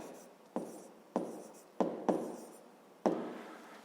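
Handwriting, likely pen on paper while working a fifth-grade maths exercise, comes as five short scratchy strokes with brief pauses between them, close and quiet, with no talking.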